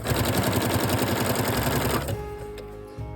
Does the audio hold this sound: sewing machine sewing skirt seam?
yes